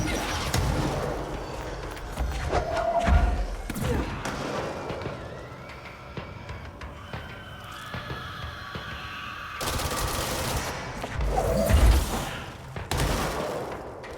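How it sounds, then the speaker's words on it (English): Gunfire and rocket blasts erupt from an enemy in the video game Control, with repeated booms, thuds and crackling shots over a dense, continuous game soundscape, louder bursts around the early and late parts of the clip. "it's that guy shooting the rockets, maybe?"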